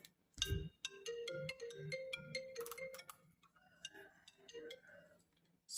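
A mobile phone ringtone plays a bright electronic melody of repeated tones for several seconds, close and fairly clear, opening with a soft thump, with no talking over it.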